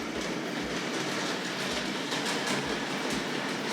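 A Tri-ang R.152 model diesel shunter pulls tank wagons along metal track, making a close, steady rolling whir with regular clickety-clack ticks from the wheels on the rail joints.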